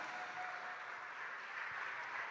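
Church congregation applauding together during a Spanish-language worship service, a steady broadband clapping wash that holds for a couple of seconds without a break.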